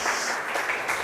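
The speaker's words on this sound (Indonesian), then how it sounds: "Oke, tepuk tangan." A class in a Catholic religious education teacher-training session claps for a student's answer, a short close round of applause from a small group.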